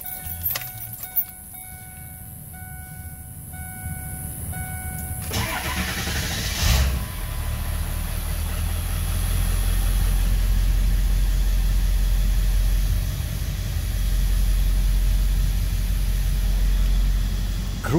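A Ford 7.3 Power Stroke turbo diesel in an old dually truck cranks and fires up partway through, then settles into a steady, loud, close idling rumble.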